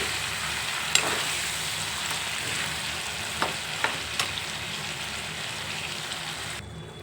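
Chicken pieces with turmeric and salt frying in a pan, a dense, even sizzle like light rain throughout, with a few brief spatula taps, close and steady.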